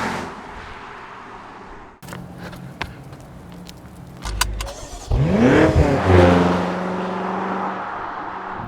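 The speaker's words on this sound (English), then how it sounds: "they all have a bit of a throttle blip, but this, when it downshifts, it just stands out a bit more" A BMW M5 V8 blips its throttle on a downshift through a quad exhaust, giving a sharp rising rev surge partway through after a few mechanical clunks, then holding a loud, rich burble to the end.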